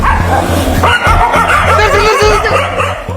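A dog barks repeatedly in short, loud yips and bow-wows, close by, with some whimpering mixed in and no talking.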